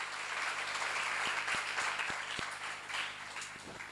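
Applause from an audience at a church seminar. It is a continuous, soft, fairly distant patter of many hands, with a few low thumps underneath and no clear talk over it.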